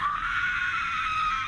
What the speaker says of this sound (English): What a wonderful scream